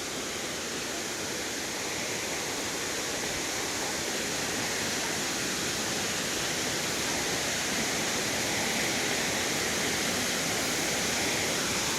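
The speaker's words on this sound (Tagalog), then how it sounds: "Ayun ang falls ng taktak. Taktak falls." Taktak Falls waterfall at Hinulugang Taktak in Antipolo City roars as a steady, dense rush of falling water, close and continuous with no pauses and no voices.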